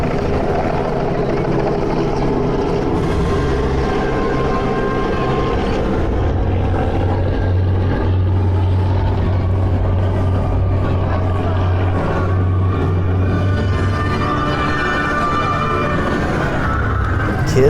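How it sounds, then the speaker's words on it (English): Helicopter rotor and turbine noise over an Easter egg drop, loud at first and steadily fading as the aircraft flies away, with a continuous throbbing drone and faint crowd voices underneath. "the helicopter is going away"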